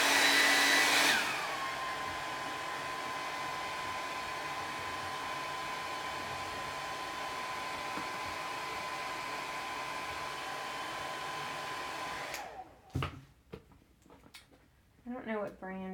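A heat gun blows a steady, loud whoosh over craft vinyl on a pumpkin for about twelve seconds, then cuts off, leaving brief handling clatter and a little talk.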